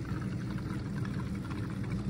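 Gasoline glugs and splashes steadily as it is poured into a tilted gas can during leaf-cleanup lawn care work, a close, continuous liquid rush lasting a couple of seconds.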